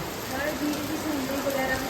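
Heavy monsoon rain pours steadily in a dense, even hiss of drops on surfaces, with a faint voice murmuring underneath.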